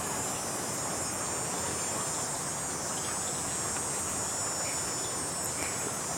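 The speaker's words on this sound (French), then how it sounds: "J'observe le son de la cigale" Steady high-pitched cicada drone fills the background continuously, a dense buzzing chorus with no pauses, fairly faint and constant throughout.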